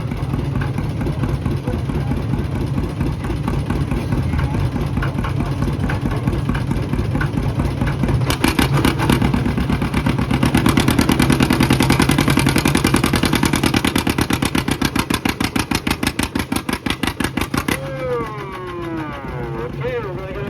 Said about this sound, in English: This is the last tractor in this round.